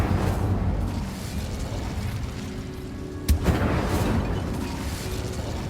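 An Incendio fire spell cast in Hogwarts Legacy, a short sharp burst that flares up over a steady low ambient rumble and then settles back into the background drone.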